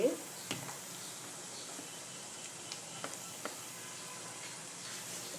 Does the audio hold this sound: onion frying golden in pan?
yes